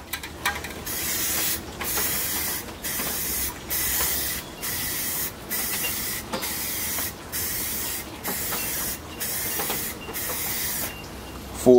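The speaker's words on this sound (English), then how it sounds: "So I start off with Rust-Oleum white gloss, and we'll get a healthy coat on to our canvas." Rust-Oleum white gloss spray paint hisses out of an aerosol can onto a canvas in a steady run of bursts of roughly a second each, with short gaps between passes, close and fairly loud.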